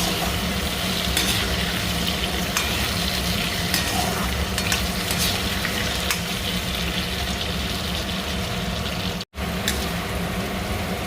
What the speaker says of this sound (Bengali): একটু হলুদ দিয়ে আলুটা ভালো করে ভেজে নেব।